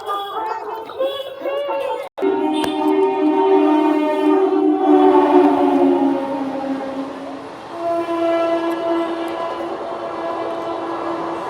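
A train passes at a busy railway station platform, its long horn sounding loud and sustained over a steady rumble, with a brief break and then more drawn-out horn tones as people's voices murmur nearby.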